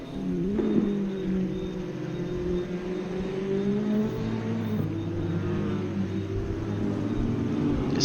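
Porsche GT4 race car engines in a racing video game at Virginia International Raceway hum and whine steadily, pitch rising and falling as the cars accelerate through turns, at moderate level with no talk.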